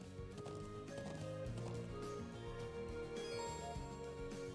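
Horse hooves clip-clop in a steady trotting rhythm in Trails of Cold Steel, fairly quiet and mixed beneath game music, with no talking.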